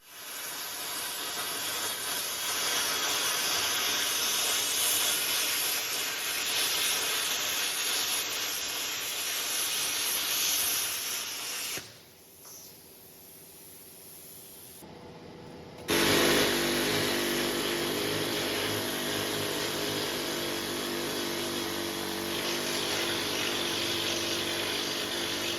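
Gouging out a crack in a telehandler bucket produces a loud, steady roaring hiss that cuts off briefly around the middle, then resumes just as strong, with no voices.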